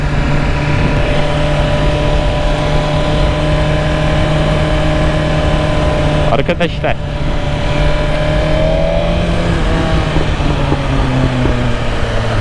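A 2023 BMW S1000RR motorcycle, just out of break-in, runs with a steady, loud engine drone whose tone rises slightly near the end; someone speaks briefly over it.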